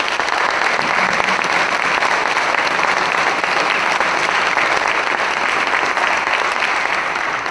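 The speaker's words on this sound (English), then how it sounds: "Let's give our candidates a big round of applause." An audience at a ward candidate forum in Hattiesburg gives the candidates loud, sustained applause, a thick, even wash of many hands clapping with no break.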